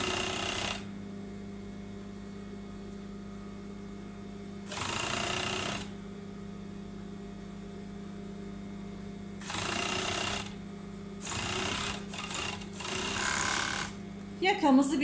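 A sewing machine stitches a sweater collar and shoulder seam in short loud bursts, separated by a steady low motor hum and quieter handling sounds, without speech.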